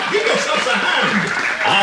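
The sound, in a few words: audience applause at Enchanted Tiki Room show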